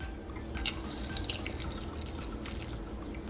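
Half a cup of water pours into blended salsa ingredients for a taqueria-style chile de árbol salsa, a soft splashing trickle with scattered drips, fairly quiet and close.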